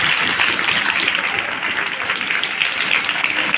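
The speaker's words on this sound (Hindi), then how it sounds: "मैं चाहता हूं सारा सदन एक बार जोरदार तालियां बजाए आदरणीय।" Hall audience at a comedy gathering claps on request in a continuous, dense wash of applause, loud and unbroken from start to finish.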